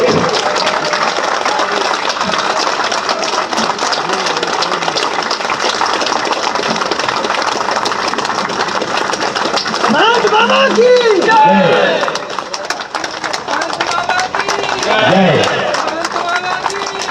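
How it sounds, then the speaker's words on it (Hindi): Loud, sustained applause from an audience at a book launch ceremony, a dense wash of clapping with crowd noise and voices mixed in throughout. "जब विमोचन हो तो जितनी जोर से हो सके ताली अवश्य बजाएंगे"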